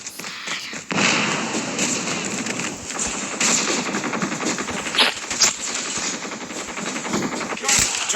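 Rapid automatic gunfire and bursts in the video game Call of Duty, dense and continuous with sharper reports now and then, while voices talk over the action.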